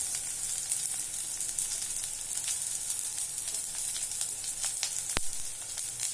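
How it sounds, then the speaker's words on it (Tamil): Onion, ginger, garlic and pepper sautéing in a pan, giving a steady, dense sizzle with scattered crackles and one sharp pop, close and continuous, with no voices. "2 மிளகு, 2 வெங்காயம், இஞ்சி பூண்டு வெங்காயம் இதெல்லாம் போட்டு வதக்கிட்டு இருக்கிறாங்க"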